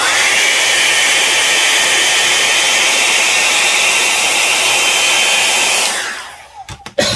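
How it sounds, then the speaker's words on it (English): A hair dryer blows steadily close up to dry watercolor paint on a flower painting, a loud continuous whooshing roar that switches off near the end, followed by a few soft clicks and bumps. "let me just dry it really quick"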